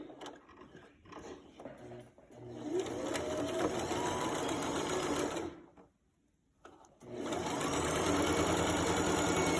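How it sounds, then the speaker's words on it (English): A sewing machine runs a seam with a half-inch allowance and back stitching, a close, steady mechanical whir and rapid needle chatter that starts up, stops briefly, then resumes without any talk. "Go to the machine and sew that with 1/2 inch seam allowance"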